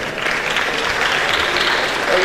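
Audience applause at a DevFest Owerri 2023 tech event, a dense, continuous clatter of many hands clapping for a couple of seconds, with some voices mixed in.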